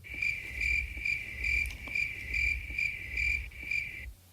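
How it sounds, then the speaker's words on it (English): Crickets chirp loudly in steady repeating bursts, a close, shrill, rhythmic trill with no other sounds or voices. "The crickets are waiting for you"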